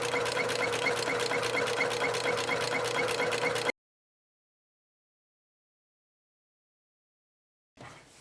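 A sewing machine stitching fabric for a zippered cosmetic makeup pouch runs steadily with a fast, even mechanical rhythm for a few seconds, then stops abruptly into silence before briefly starting again near the end.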